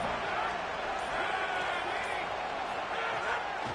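Stadium crowd noise from the College Football 27 video game during a Texas Tech third down: a steady, dense roar of cheering that holds loud and constant throughout.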